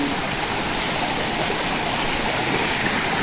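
Flowing stream of water rushing steadily at close range, a loud, even broadband wash without pauses or voices.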